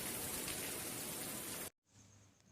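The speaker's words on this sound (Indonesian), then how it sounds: "titik-titik air tidak terbendung lagi dan membuat butiran-butiran air jatuh ke permukaan bumi" Steady rain falls in a dense, even hiss of drops for most of the span, then cuts abruptly to near silence with only a faint, quiet patter afterward.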